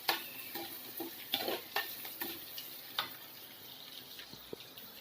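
Small onions, big onions, cinnamon and cloves frying in a pan, with a soft steady sizzle broken by intermittent stirring scrapes and clicks, moderately close and with no talk.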